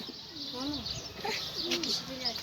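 Mardin tumbler pigeons coo repeatedly in a low, rolling rhythm, several calls close by in quick succession, with chirps from other birds mixed in.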